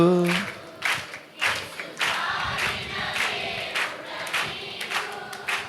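A congregation at an all-night Telugu Christian prayer meeting claps in steady rhythm while singing together, the claps loud and regular under blended voices.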